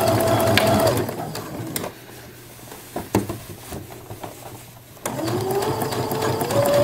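A sewing machine stitches a bag at a short stitch length, a steady close whir that runs, pauses for about three seconds with faint handling noises, then starts again and carries on to the end.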